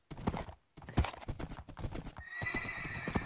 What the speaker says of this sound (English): Your horse is faster than mine, Dakota.